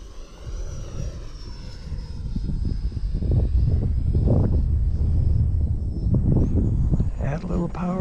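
A Futura 64mm electric ducted-fan model jet flies at full power, giving a steady high whine and rushing airflow that swells as it passes near, with wind buffeting the microphone and a voice talking over it.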